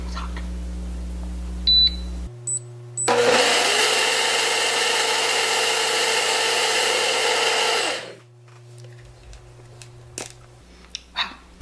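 A countertop blender purees very hot soup at medium speed, a loud steady whirring roar lasting about five seconds before it stops, with beeps and a low hum around it.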